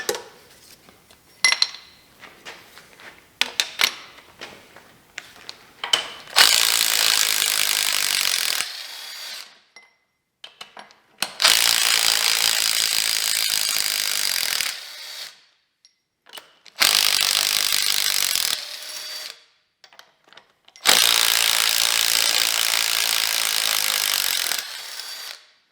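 Power tool bursts loosen long bolts on a GM L83 engine during disassembly, four sustained buzzing runs of several seconds each separated by short pauses and scattered clinks of metal handling.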